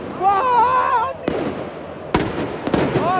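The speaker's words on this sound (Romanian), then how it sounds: "Artificii pentru prima dată." Fireworks explode in sharp, loud cracks and bangs at an FCSB vs Rapid Bucharest football derby, with a voice shouting excitedly over the crowd before the bursts.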